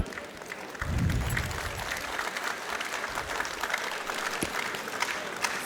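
Applause from the audience at a college convocation ceremony, a steady wash of clapping hands with a low rumble near the start, sustained and fairly distant throughout.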